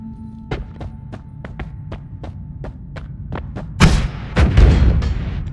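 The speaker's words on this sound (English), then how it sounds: "the holy hand grenades blow up immediately?" Holy hand grenades exploding in the pixel-physics game Noita: a quick run of sharp, evenly spaced pops gives way to two heavier, louder blasts with rumbling debris near the end.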